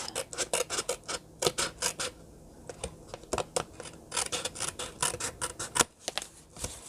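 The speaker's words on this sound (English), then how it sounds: "So cut this whole panel off." Scissors snip repeatedly through a cardboard panel while a glue-stick gift box is being made, a steady close run of sharp crisp cuts with brief pauses and no talking.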